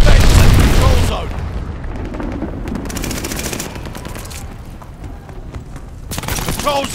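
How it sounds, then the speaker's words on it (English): Glide bombing explosions in the World War II shooter Call of Duty: Vanguard, a loud booming blast at the start fading into rumbling battlefield noise and scattered gunfire, with a voice speaking over the din. "Enemy's got a glide bombing coming"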